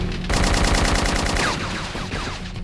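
Rapid automatic gunfire in a film combat scene erupts after a brief pause and rattles on for over two seconds, loud and close, with bursts layered over one another as cover fire.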